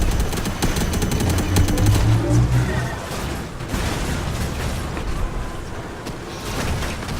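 Robocraft Infinity video game bots firing, with rapid machine-gun bursts, dense rattling fire and heavy thuds layered close and loud, easing slightly after the first few seconds and then continuing.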